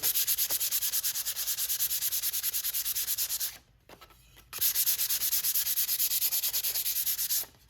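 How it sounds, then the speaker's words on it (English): Rhythmic hand sanding of a wooden string-art sign, rapid back-and-forth rubbing strokes, close and steady, with a short pause before the scraping resumes. "the more you press, the more it's going to take it down to the natural wood"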